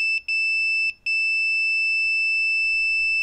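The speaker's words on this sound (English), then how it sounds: "when you connect it together, it gives you a tone so that you know you have a short circuit" A Southwire 21550T True RMS clamp meter sounds its continuity tone: two quick pairs of sharp, high electronic beeps, then silence.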